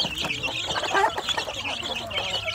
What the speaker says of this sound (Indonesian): anak ayam kampung yang ada di dalam kotak pembesaran ini